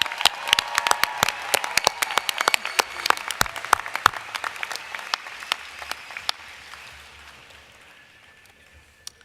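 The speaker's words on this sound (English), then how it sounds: "Let's have a big round of applause to all the graduating students" Applause for graduating business students at a commencement, with loud sharp individual claps in a dense crowd that gradually thin and fade into scattered claps.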